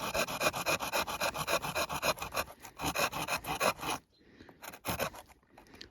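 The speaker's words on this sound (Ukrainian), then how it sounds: "Для розпалки я б ще зробив стружку за допомогою пилки." Rhythmic rasping strokes of the saw on a Ganzo Firebird FSA01-YE 3-in-1 camping axe scraping wood into shavings for kindling, steady back-and-forth for several seconds, then a brief pause and a few lighter strokes.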